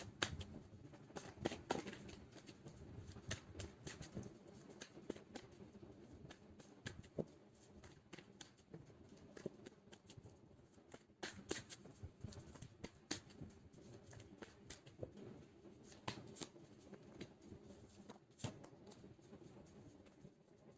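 Tarot cards are shuffled and drawn in a quiet room, a long run of soft riffling flicks and light slaps, close and faint, with no voices.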